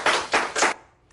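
Three bursts of applause from a gathering of transport workers, each lasting about a quarter second, loud and close, followed by a faint final clap.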